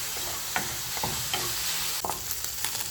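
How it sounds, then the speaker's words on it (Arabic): Seasoned chicken pieces sizzle in a hot pan while being stirred and mixed with spices, a constant loud frying hiss broken by scraping utensil strokes at irregular intervals; no voices. "ونخلطو مليح هذوك التوابل مع هذاك الدجاج كما راكم تشوفوا"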